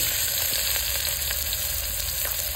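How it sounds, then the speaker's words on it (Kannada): Onion fries in hot oil for mango chutney with a loud, dense sizzle and scattered crackles, steady and close throughout, without any speech. "ಅದಕ್ಕೆ ಸ್ವಲ್ಪ ಈರುಳ್ಳಿ ಹಾಕ್ತೀನಿ."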